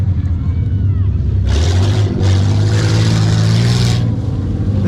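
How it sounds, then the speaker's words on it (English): Off-road trophy trucks run a timed race course at a night Tuff Truck event, their engines roaring loudly and steadily with a rev surge midway, while voices talk nearby. "we got some of the Tuff trucks running right now"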